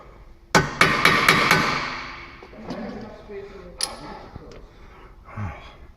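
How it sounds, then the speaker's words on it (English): A quick series of sharp metallic hammer strikes on a bolt ring out close by during a Ford Mondeo rear wheel bearing change, followed by scattered lighter taps and clanks of tools on metal. "That hammering may not seat the bit any better than it's seated, but it will help shock the bolt"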